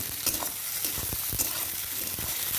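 Potato and carrot pieces sizzle in hot mustard oil, a continuous frying hiss broken by repeated stirring scrapes and clinks at an irregular pace, close up and without speech.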